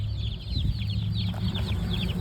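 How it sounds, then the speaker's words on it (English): Baby chickens on a farm cheep in a busy stream of thin, high peeps, close by and continuous over low rumbling background noise. "we have to collect baby chickens all over the farm today"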